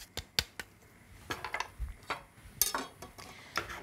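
Pasta with parmesan tossed in a large pan, giving a string of sharp metallic clanks and scrapes at irregular intervals, with soft stirring noise between the knocks and no talking.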